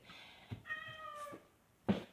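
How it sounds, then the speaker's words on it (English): A cat meows once in a clear, drawn-out cry at moderate volume, indoors and close, with a few faint thumps around it. "My cats are around."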